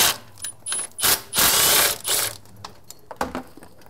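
A socket wrench on a long extension with an 18 mm deep socket loosens the nut holding the shift linkage to a Cummins 47RE/48RE transmission, giving bursts of loud, close ratcheting clicks and mechanical rasps separated by short pauses.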